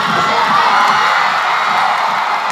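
Graduates at a high school graduation ceremony clapping and cheering: a dense, loud crowd roar of applause and shouts filling the hall throughout.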